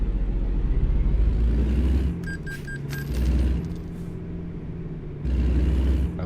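Engine rumble of a custom-built Kenworth truck in American Truck Simulator, a steady low drone with a few brief tonal beeps midway and the engine easing off then returning, no talking.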